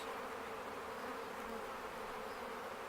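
Honey bees buzzing as more are shaken into a box while splitting a hive crowded with drones: a steady, dense swarm hum filling the whole stretch, close and constant with no talk.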